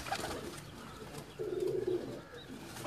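A domestic pigeon gives a single low, throaty coo of about half a second, close and fairly loud over steady background noise, with a fainter short note near the start and no talking.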